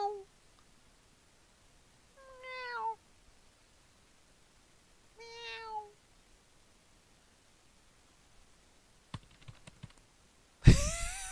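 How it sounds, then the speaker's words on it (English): A cat gives two drawn-out, rising-and-falling meows a few seconds apart in a quiet room, followed by brief clicks and a sharp noise burst at the end. "Meow."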